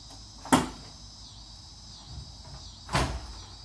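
Door of a 1992 Chevrolet S-10 pickup truck shuts twice, two short, muffled thuds about two and a half seconds apart, close by over quiet background hum.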